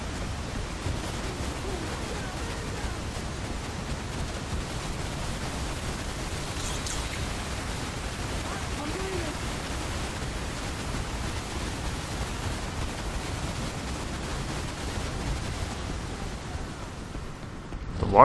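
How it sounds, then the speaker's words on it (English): A waterfall in the Crysis 3 multiplayer game gives a steady, even rushing hiss that holds at the same level for the whole stretch, with no voices over it. "Waterfall makes a weird noise."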